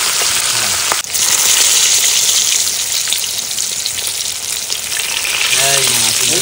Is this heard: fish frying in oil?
yes